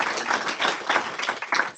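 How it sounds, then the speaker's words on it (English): An audience at a conference session on gender equity in the health workforce applauds, a dense, steady patter of many hands clapping together that keeps going without a break. "So I would say give yourselves a round of applause"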